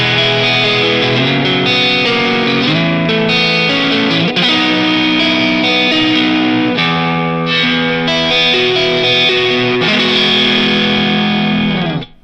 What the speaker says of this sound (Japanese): このペダルは、いわゆるトランスペアレント系のペダルで